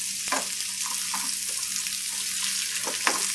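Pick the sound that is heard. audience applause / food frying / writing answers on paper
food frying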